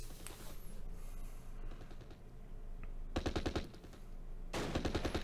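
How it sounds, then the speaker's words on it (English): Rapid bursts of rifle and machine-gun fire in a World War II combat game set at Arnhem, Polish paratroopers against German SS, with two dense volleys of cracking shots after a quieter stretch of distant battle noise. "At least we've got some covering fire."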